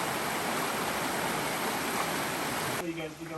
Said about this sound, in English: Something about the sound of the water.